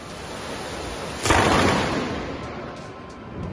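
Lightning sound effect for a supercell thunderstorm: a sudden, loud, broadband crack bursts in over a steady noisy rumble, then rolls and slowly fades over a couple of seconds, with no voices.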